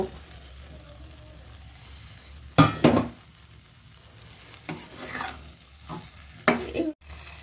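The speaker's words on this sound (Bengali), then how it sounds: "এবার এর মধ্যে আমি ভেজে রাখা ফুলকপি এবং আলুগুলো দিয়ে একটু কষিয়ে নেব" Fried cauliflower and potatoes being stirred into a fish gravy in a pan, with a steady low sizzle under scraping spoon strokes that come in three louder bursts, no voices present.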